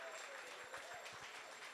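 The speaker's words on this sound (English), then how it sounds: "Big round of applause for everybody at that level" Applause for donors during a market celebration livestream, quiet and distant, a thin spread of clapping with some crowd murmur underneath.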